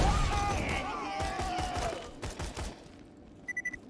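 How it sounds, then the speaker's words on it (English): Gunfire in the video game Borderlands 2, heard as dense rapid bursts of shots under game noise that thin out into a few separate cracks, followed by a short electronic tone near the end. "Who's shooting at me now?"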